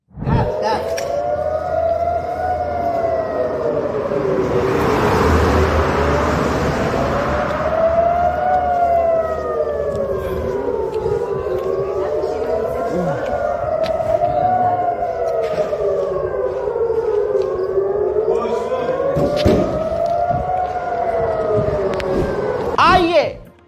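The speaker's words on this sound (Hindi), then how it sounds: "जब इनकमिंग मिसाइल का सायरन बज रहा था" Incoming-missile warning siren wailing in Israel, a continuous rising-and-falling civil-defense tone that stays loud and steady throughout, with a broadband burst of noise partway through and some background commotion underneath.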